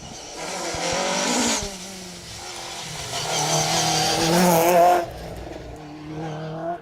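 A yellow Mark II Ford Escort 2.5 litre rally car races through a stately home stage, its engine loud and close with revving and gear changes rising and falling over several seconds.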